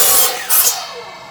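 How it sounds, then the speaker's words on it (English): Power saw slicing through two stacked wooden deck railing pickets at once, a loud close rasping whine with a brief surge midway before the blade winds down. "you can pile 2 or 3 in the saw, depending on your saw"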